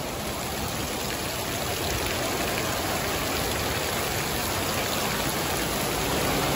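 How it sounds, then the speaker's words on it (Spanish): Heavy rain pours down in Thousand Oaks, California, on a flooded car-detailing lot, producing a loud, unbroken roar of rain and rushing water that stays constant with no voices. "La lluvia está fuerte, fuerte, fuerte."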